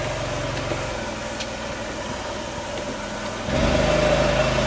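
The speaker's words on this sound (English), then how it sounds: "We have the Gen Drive, the generator," A generator in an E-Classic drive system runs steadily at a low hum, then kicks up into a louder, heavier drone near the end as the load rises.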